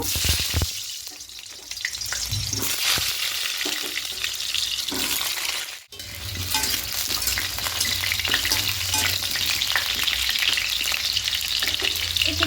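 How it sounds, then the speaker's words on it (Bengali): Potatoes frying in hot oil in a home kitchen while chicken is cooked, giving a steady loud sizzle with a brief dip partway through. Water runs from a tap in the background. "তেলটা গরম হয়ে এসেছে এবার এখানে আলুগুলো প্রথমে ভেজে নেব"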